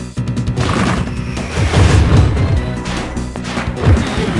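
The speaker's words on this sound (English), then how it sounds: "I think for the first shot I'm gonna go grenade launcher" Grenade launcher fire and explosions in the video game Serious Sam, a loud, dense stream of booming blasts and crashes that barely lets up, with heavy low thumps rising toward the middle and end.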